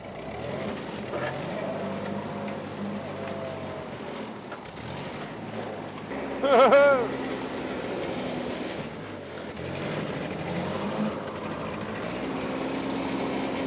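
A tractor driving along farm trails, its engine holding a steady, close mechanical drone with one brief, louder clattering surge midway and no talking.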